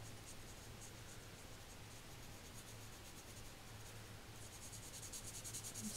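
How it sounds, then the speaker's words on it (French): A colored pencil or marker rubs lightly back and forth while filling in a lotus flower in light purple, a soft, close, continuous scratching that stays faint and even, with no voices. "On va commencer par la fleur. Donc on va colorier tout en violet clair."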